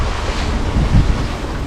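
Wind rushing across the deck of a sailing boat at sea, a steady broadband roar with gusty buffeting against the microphone and waves washing beneath, loud and continuous with no voices.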